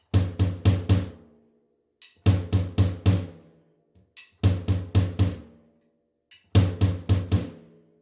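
Single-pedal bass drum played with heel-toe strokes on the upbeats: four bursts of quick rhythmic kicks, each group of three or four close thumps followed by a pause and a faint soft hit, clean and close with no talking.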